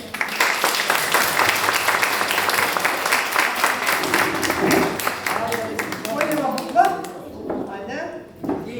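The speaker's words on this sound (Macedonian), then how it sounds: "Еден аплауз за сите деца" A crowd of children and adults applauds at a children's event, steady clapping filling the first half before thinning into scattered claps, with voices and chatter rising underneath toward the end.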